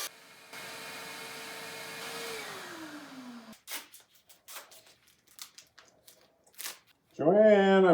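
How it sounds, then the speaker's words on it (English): A household vacuum cleaner in an off-grid log cabin hums steadily for a few seconds, its pitch sliding downward as it winds down and cuts out, followed by scattered thumps and rustles and a burst of talking at the end. "I broke your vacuum."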